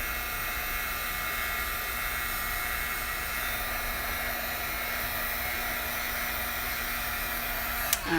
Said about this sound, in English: So the heat gun and the embossing powder